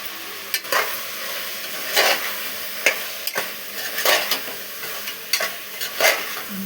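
Eggplant curry frying in a pan with coriander powder, stirred in repeated scraping strokes over a steady close sizzle, with no voices.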